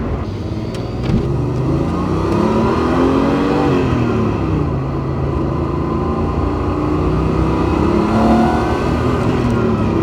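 A 1990s Porsche Turbo engine revs hard and steadily under load, high in the revs and in boost, a loud continuous roar with rising and falling pitch, close to the microphone.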